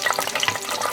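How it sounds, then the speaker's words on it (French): Chicken pieces frying in hot oil, giving a steady close crackle and sizzle with brief popping bursts throughout, no voices. "Maintenant, nous passons à la friture"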